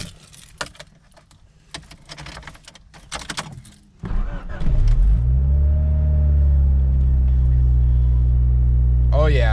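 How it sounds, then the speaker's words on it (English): A 1992-2000 Honda Civic, just fitted with a new oxygen sensor, is cranked and fires into a steady, loud, close idle after keys jangle. A brief voice is heard near the end. "we're gonna give the car its first startup since the new oxygen sensor has been installed"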